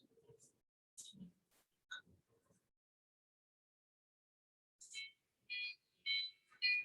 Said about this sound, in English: Okay, the siren is working.